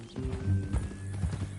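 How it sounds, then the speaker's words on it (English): Horse hooves clip-clop steadily in Red Dead Redemption 2, a series of close, moderately loud knocks over low rumbling game ambience, with no talk. "That a new horse?"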